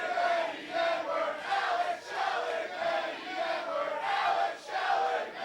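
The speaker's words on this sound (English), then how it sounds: "Dueling chants. Crowd's not even sure who to cheer for at this point." A live pro wrestling crowd in an arena trades dueling chants during a tag team match, loud rhythmic waves of many voices rising and falling in alternating pulses roughly every second.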